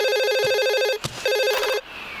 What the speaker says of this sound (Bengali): ফোন আইছে।